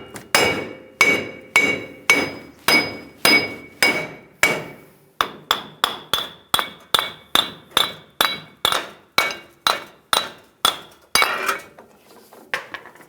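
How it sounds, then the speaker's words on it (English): Steel hammer striking the back side of a front suspension ball joint on a 2011-2018 Ram 1500, around twenty sharp metallic blows in a steady rhythm with ringing clinks, close and loud, no talking. "Then we can hammer the back side. Taking a hammer, just hammer it out."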